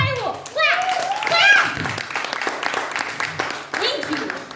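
Brief patter of clapping from a small group in a loud, rowdy setting, rising around the middle of a short burst and mixed with shouting voices and chatter throughout.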